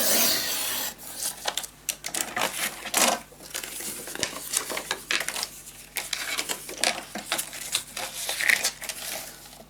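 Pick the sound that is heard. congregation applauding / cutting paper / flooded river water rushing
cutting paper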